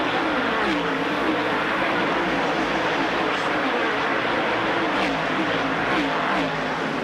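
NASCAR Winston Cup cars in the 1985 Busch 500 at Bristol storm off turn 4's steep 36-degree banking, a steady dense engine roar filling the whole stretch with a crowd-like wash and commentary voices underneath.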